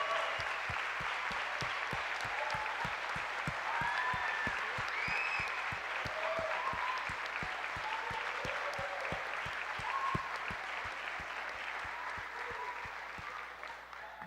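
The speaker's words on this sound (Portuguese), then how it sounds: "Eu queria que você desse um baita de um aplauso" A church congregation applauds its pastors in sustained, dense clapping that holds steady and loud throughout, with faint voices scattered underneath.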